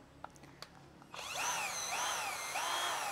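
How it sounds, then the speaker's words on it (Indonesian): A JLD J12S cordless drill motor whirs up as the trigger is pressed, running steadily close by with slight speed wavering after a few soft clicks of handling. "Lalu kita perhatikan bagian trigger, ini biasanya sendat-sendat nih kalau bor murah ya."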